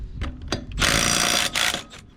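A Milwaukee 3/8-inch right angle cordless impact wrench with a 13/16 socket on an extension removes trailer lug nuts. Two short taps come first, then a loud sustained hammering rattle, a brief pause and another burst, close up.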